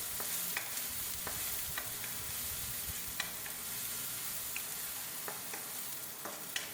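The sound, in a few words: sauteing garlic and onion in oil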